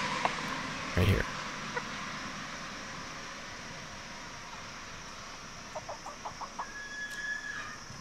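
A hen gives a series of short, rhythmic clucking calls near the end, with faint background noise and a brief thump earlier.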